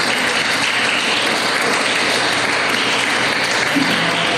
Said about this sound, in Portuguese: Dê um aplauso ao Senhor nessa manhã.